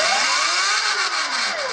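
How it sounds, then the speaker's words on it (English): A Sur Ron Light Bee electric motorbike's motor whines loudly and close, pitch climbing under throttle and then sweeping down during regen braking, a smooth continuous electric whir with no talking. "So I'm going to give it some throttle, and then I'm going to slow it down with the regen throttle."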